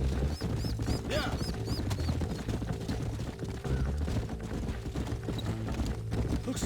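Horse hooves clip-clop steadily in the Red Dead Redemption video game, a repeated trotting rhythm set in a busy, dense soundscape with music and ambience layered over it.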